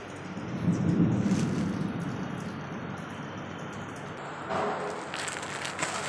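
Steady rain pours outside an office with a deep thunder rumble rolling through early on, then continuing as a dense, even hiss of falling water with a few brighter splashes near the end.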